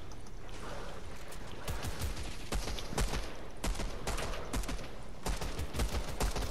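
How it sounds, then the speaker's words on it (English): Shotgun fire in the video game Fortnite crackles through a dense, steady wash of game noise, with many sharp shots arriving in rapid, irregular bursts throughout. "Show him the power of a shotgun."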